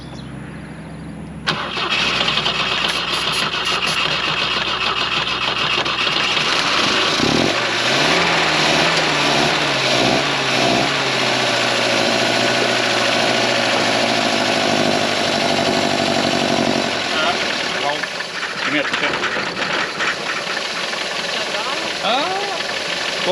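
A 1967 Volvo Amazon 122S, whose carburetor float had been stuck, cranks and catches, then runs loud and close at a rough, uneven idle that revs up and down before settling, with a few voices heard over the engine.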